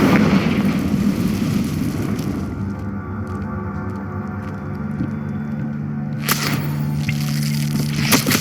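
A Confringo blasting spell detonates in Hogwarts Legacy: a rumbling, broadband blast fades into a quieter stretch of hum, then a second sharp burst erupts near the end. There is no talking.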